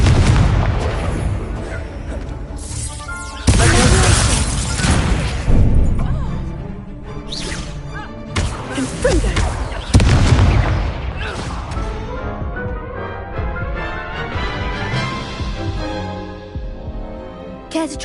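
Incendio fire spell cast in Hogwarts Legacy, loud bursts and booming impacts layered over dense game music and effects, with several sharp hits spread through the stretch.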